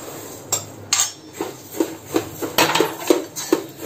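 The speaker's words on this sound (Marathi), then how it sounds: "आता हे बडीशेपचा कलर पण बदलला आहे बघा आणि चांगला फटफट असा आवाज यायला लागला आहे" Fennel seeds dry roasting in a pan without oil, giving irregular light crackles and clinks, roughly a dozen scattered pops over a faint background.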